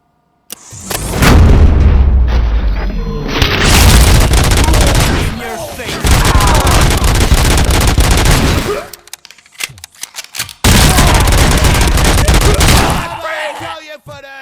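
Heavy gunfire in the video game Robocop: Rogue City comes in loud, dense bursts and booming volleys separated by brief quiet gaps, with voices talking between shots.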